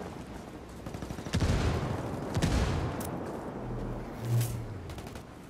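Bursts of gunfire in a Ghost Recon Wildlands firefight, loud rattling volleys and single shots with a heavy thud near the end, no talking.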